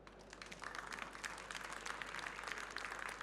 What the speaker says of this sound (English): our speakers really deserve a round of applause